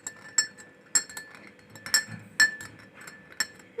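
A spoon stirs a homemade mango drink in a glass, making sharp, bright clinks against the side at a steady rhythm of about one every half second, close and clear with no talking.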